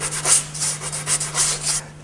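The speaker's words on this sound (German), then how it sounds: "Da kann man nicht einfach mit dem grossen Papier durch, sondern man muss da wirklich jede einzelne, und vor allem hier in diesen Ecken rein, ist es sehr mühsam zum Schleifen." Sandpaper rubs by hand into the fine veins and corners of a trophy model before casting, a series of short, close scratchy strokes in an uneven rhythm with no talking.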